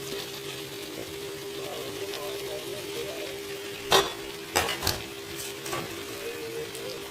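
Mashed potatoes are stirred into frying masala in a pan for a potato curry, giving a faint steady sizzle with a few sharp scrapes and clinks of the spoon against the pan.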